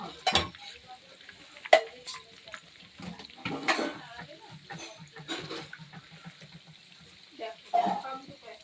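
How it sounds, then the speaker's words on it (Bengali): Marinated pakoras fry in hot oil for a shop, a light bubbling sizzle broken by several loud splashing and clattering bursts as pieces are handled, with utensil knocks and brief sounds like running water. "আমাদের দোকানের জন্য পকোড়া ভাজা করছি"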